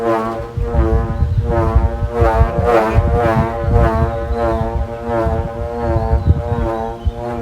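An 80 cm southern Thai kite hummer bow fitted with an unpolished strap blade hums steadily and loudly, a deep droning tone with rich stacked harmonics that pulses gently as the wind varies, with no talk over it.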